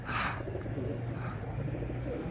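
Pigeons coo in a brief, noisy outdoor stretch, soft calls blending into a broad wash of background sound.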